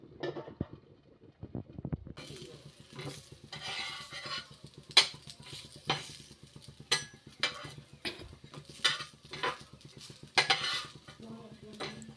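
Potatoes frying in a pan for dinner at home, with a steady low sizzle under repeated clinks and scrapes of a utensil stirring against the pan.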